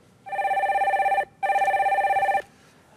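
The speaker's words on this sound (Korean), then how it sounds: "다음 전화 연결해주세요." A telephone ringing as a call is connected on a live phone-in show: two long electronic trills with a brief pause between, clear and close with no talk.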